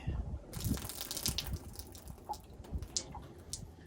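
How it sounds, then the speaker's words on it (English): Water poured out of a gun silencer, a few short splashing gushes and irregular drips, fairly close and quiet, with brief pauses between pours. "So I poured out on both sides because I still have a lot of water in there."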